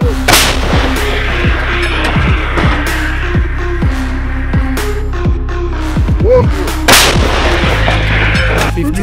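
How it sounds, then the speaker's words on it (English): Heavy artillery cannon booms repeatedly on the Avdiivka frontline, loud and close, each blast followed by a rumbling echo over a steady low drone. "Cannon."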